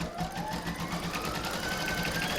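A sewing machine stitches fabric and batting for an Easter bunny project, a close, steady rapid whirring hum with a fast rhythmic needle pulse throughout.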